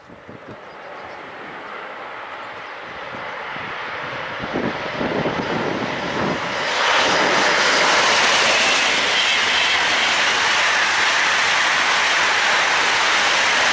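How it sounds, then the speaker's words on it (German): An ICE 4 high-speed train heading toward Augsburg approaches and rushes past outdoors near Althengenberg, a broad roar that builds steadily and stays loud and continuous to the end. "ICE 4 Richtung Augsburg."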